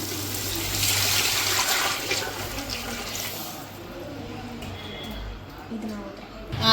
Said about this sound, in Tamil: நான் இப்போ வந்து தண்ணி ஊற்றிக்கிறேன்.